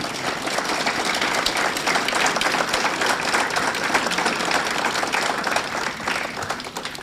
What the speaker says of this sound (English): If we could have a round of applause for all of them